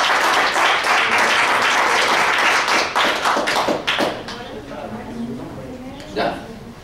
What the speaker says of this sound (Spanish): Un aplauso a Jesús por este paso.